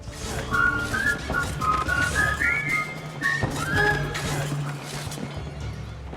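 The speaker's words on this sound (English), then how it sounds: "being able to whistle from a hiding spot to attract a guard's attention" A person whistles a short series of rising, wavering notes from a hiding spot in a video game to attract a guard, over a low rumble, with a few thuds in the background.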